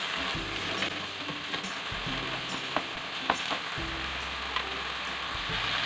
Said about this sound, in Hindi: इसको अच्छी तरह से भून लेते हैं